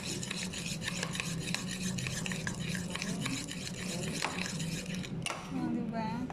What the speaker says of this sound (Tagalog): Ihaluin pa natin ng haluin para yung mas mag-foam pa siya